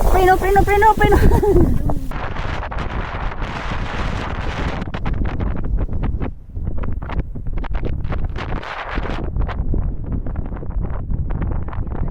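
Heavy wind at Cape D'Aguilar peak, Hong Kong, rumbles and buffets the microphone throughout, while a voice calls out at the start.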